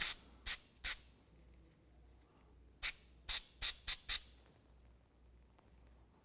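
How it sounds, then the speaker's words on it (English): Brake cleaner sprayed onto the rear brake caliper sliders of a 2005–2016 Toyota RAV4: two short hissing bursts, a pause, then four quick blasts in a row, close and crisp with no talking. "So we're just going to give it a quick spray with the brake cleaner."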